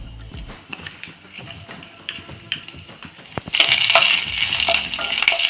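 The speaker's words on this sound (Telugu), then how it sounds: "ముందుగా పచ్చిమిర్చి, కరివేపాకు వేయించుకుంటున్నానండి" Green chilies and curry leaves frying in oil for chicken liver fry, with scattered taps and stirs at first, then a dense, steady sizzle that grows louder and stays up close for the last couple of seconds.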